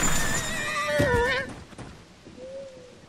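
A horse in the video game Tears of the Kingdom neighs loudly in a long, wavering whinny, with a brief faint call trailing after it.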